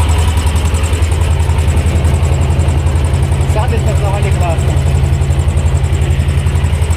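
A T-25 tractor with an Agrozet potato planter chugs in a loud, steady low-pitched rhythmic idle close by, while someone talks over it.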